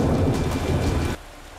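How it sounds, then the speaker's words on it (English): Heavy rain pours steadily with a deep rumble of thunder mixed in, loud and close, before cutting abruptly down to a quieter patter. "It's been pouring raining since about 1:30 this morning."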